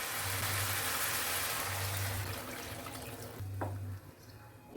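Water from a rinsed bowl poured into a pan of chilli soybean, a steady broadband pour and splash over a low intermittent hum, ending with a brief clatter.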